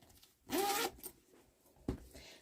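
A zipper on a sewn satchel-style bag with a zipper top closure is pulled in one quick, close, loud stroke, followed by a shorter second tug of the slider.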